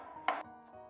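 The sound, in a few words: knife slicing peeled carrot on cutting board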